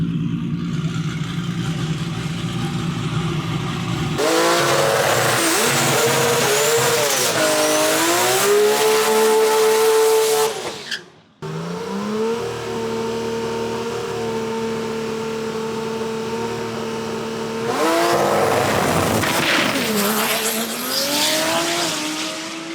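A rotary-engined Mazda RX-7 race car roars and revs loudly up and down through gears down a track, cutting out briefly midway before roaring again with rising pitch.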